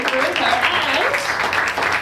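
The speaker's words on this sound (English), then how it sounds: "Round of applause for yourselves for coming out" Audience applause at a live tabletop game session in a venue, a short burst of clapping with cheers while a host speaks over it.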